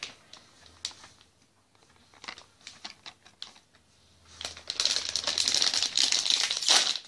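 A packet of Japanese candy is torn and opened, giving sparse crinkly clicks and taps that build into loud, continuous crackling plastic rustling toward the end, close to the listener with no talking.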